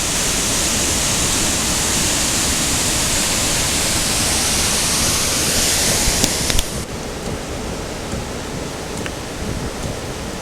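Loud, steady roar of a rushing river surging through the constricted Zeballos River canyon during rain-on-snow flooding, broadband and continuous, then slightly softer near the end.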